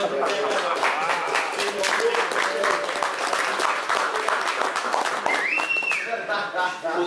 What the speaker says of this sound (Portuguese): Depois a gente vai aplaudir.